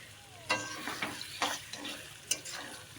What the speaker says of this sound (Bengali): টমেটোটাও এই মশলা কষার সঙ্গে ভালো করে মিক্সড করে নিয়ে নেব।